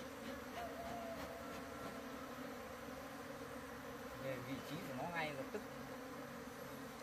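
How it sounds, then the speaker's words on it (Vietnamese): Many bees drone in a constant, close buzzing swarm around their hive, with faint voices in the background. "Ong nhìn ong khỏe nhỉ, nó mập lắm."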